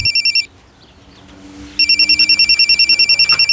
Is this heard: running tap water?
no